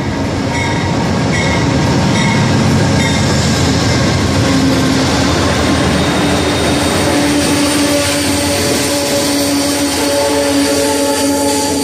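Amtrak P42 diesel locomotive hauling a late-running passenger train past a platform, a loud, sustained close roar of engine and rolling wagons with rail clatter and faint wheel squeal, no talk.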